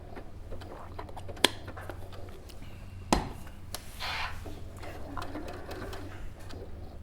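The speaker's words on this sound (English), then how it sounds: "I'm doing this blanket stitch in a red thread around the bunny" A Brother sewing machine works a blanket stitch in red thread around an appliqué bunny, a soft steady mechanical whir with a couple of sharp clicks, while people talk in the background.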